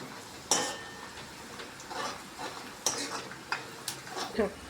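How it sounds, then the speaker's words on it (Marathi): Spiced potato curry stir-fried in a pan, with intermittent clinks and scrapes of a spoon against the metal over a low frying hiss and faint background voices. "आता परतून घेऊया, म्हणजे चांगलं मिक्स करून घ्यायचं"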